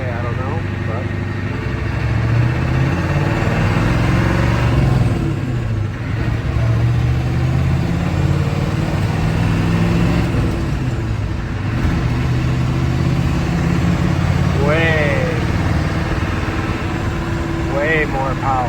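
A 6.9 IDI diesel truck fitted with an eBay turbo pulls in second gear, its close, continuous engine drone swelling and holding strong for the whole stretch while someone talks over it.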